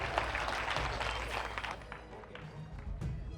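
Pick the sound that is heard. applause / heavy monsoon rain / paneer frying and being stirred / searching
applause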